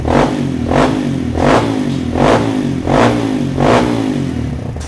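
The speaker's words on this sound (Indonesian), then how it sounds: "Kita cek sound knalpotnya." Kawasaki KLX 150L motorcycle with a stock carbureted engine and an aftermarket exhaust, revved repeatedly in about six rising-and-falling bursts over a steady idle, loud and close with no talking.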